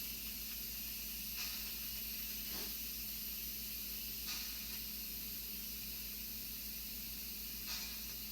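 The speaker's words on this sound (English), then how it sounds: "Yeah, there's still some steam in it, but it won't take it long." A faint, steady hiss of steam escapes from an Instant Pot pressure cooker after cooking pork tenderloin, continuous and quiet with a few brief louder puffs.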